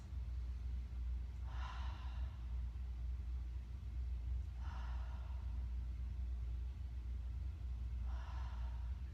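Slow, deep breaths during a floor stretch in a bone-health exercise session, three soft exhalations spaced evenly apart over a steady low background rumble.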